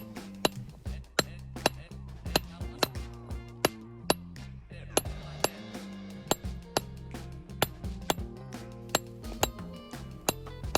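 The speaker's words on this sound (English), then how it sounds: "I'm actually upping the size of my hammer in this case so that I can drive a little bit of that force farther down into the stone with each strike." A hand hammer striking a steel chisel to split stone, sharp ringing metallic clinks landing in a steady, regular rhythm with each blow, close and clear with no voices.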